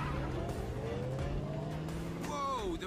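Souped-up Ford Mustang engine in Need For Speed Payback revving and climbing in pitch, with tyre squeal and a rising whine near the end, loud and close under faint background voices.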